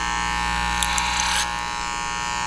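Electric hair clipper on fast feed runs close and steady in a barbershop, cutting a man's hair over a comb, with a brief brighter burst of snipping buzz midway through the continuous whine.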